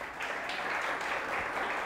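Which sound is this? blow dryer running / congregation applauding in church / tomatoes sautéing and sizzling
congregation applauding in church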